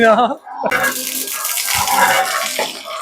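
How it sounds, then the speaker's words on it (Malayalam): Water gushes forcefully from a hand-cranked pump drawing from a well, a loud continuous rushing splash that starts abruptly after a brief voice at the outset. "നല്ല ഫോഴ്സിലെ വെള്ളം വരുന്ന കേട്ടോ"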